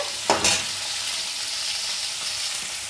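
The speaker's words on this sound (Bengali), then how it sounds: "মাংসর মশলাটার জন্য পেঁয়াজ ভালোভাবে ভেজে নিতে হচ্ছে" Sliced onions fry in hot oil with bay leaf, cloves, cardamom and cinnamon for a chicken biryani masala, a steady close sizzle with a sharp stirring scrape near the start and no talking.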